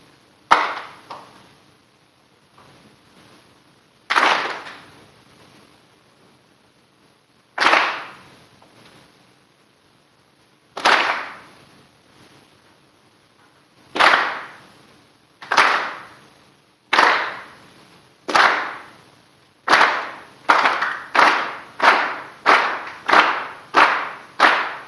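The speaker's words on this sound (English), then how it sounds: "I want you guys all to clap with me." A group clapping hands in rhythm at a drum event, starting with single sharp claps spaced a few seconds apart, then quickening into a steady run of evenly spaced claps near the end.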